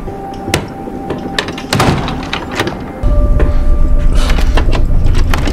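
A locked door is shoved and rattled forcefully, loud and close, with sharp repeated bangs and rattling clatter, then a heavier, continuous rattling shake.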